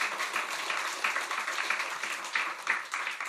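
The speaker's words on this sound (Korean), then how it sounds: "우리 다시 경외 박수하겠습니다." A church congregation applauds after a choir's hymn at a Sunday worship service, a steady, moderately distant wash of many hands clapping throughout.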